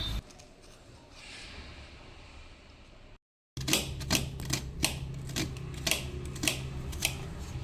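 Bitter gourd (karela) is grated by hand, giving a series of sharp, rhythmic scraping strokes, close and distinct, after a softer rustling start.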